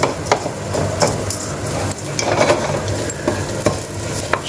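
Rice being stirred in olive oil with a rice spoon in a pan for Spanish-style rice, a constant sizzle broken by repeated scraping strokes and light knocks, close and fairly loud, no voices.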